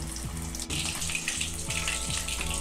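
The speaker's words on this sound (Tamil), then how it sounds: "சிக்கன் பீசஸ் நல்லா டீப் ஃப்ரை ஆகட்டும் பாருங்கள், நல்லா ஃப்ரை ஆகிட்டுருக்கு." KFC-style chicken pieces deep frying in oil over low heat make a dense, continuous bubbling hiss with a faint underlying hum, close and steady throughout with no voices.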